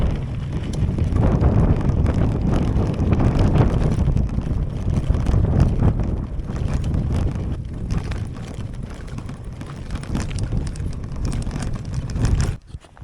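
Strong gusting wind buffets the microphone at a mountain lake in the Rockies during a gravel bike trip, a loud continuous roar and rumble with no speech.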